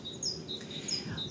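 Small birds chirping outdoors: several thin, high tweets repeat at irregular intervals over a soft, steady background murmur, moderately close and clear.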